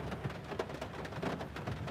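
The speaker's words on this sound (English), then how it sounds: "Do y'all not hear the rain?" Rain falling outside makes a continuous, fairly loud wash of dense patter with no voices over it.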